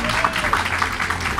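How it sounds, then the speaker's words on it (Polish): Applause from an audience at an academic debate of mayoral candidates in Opole, a steady wash of many hands clapping throughout at even, fairly loud level. "brawa oczywiście"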